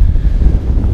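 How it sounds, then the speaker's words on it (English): Strong wind on open Dartmoor moorland at a freezing winter campsite, buffeting the microphone with a loud, low, gusty rumble that fills the whole brief moment. "It's very, very windy, but we should be fine."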